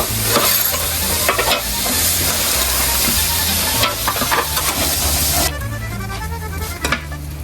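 A Murray cod fillet sizzles loudly and continuously on a hot lidded BBQ grill, with a dense, close frying hiss and occasional clattering as it is turned.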